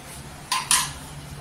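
Garlic cloves, green chillies, cumin and salt being pounded together in a kitchen, heard as two sharp knocks about a fifth of a second apart over quiet room noise.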